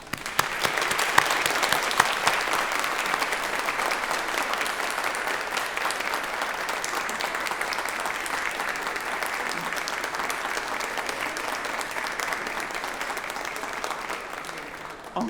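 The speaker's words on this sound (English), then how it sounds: "give them a huge round of applause." Sustained applause from an audience of families and supporters, a dense, even wash of clapping lasting over a dozen seconds with no talking.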